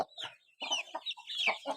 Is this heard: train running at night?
no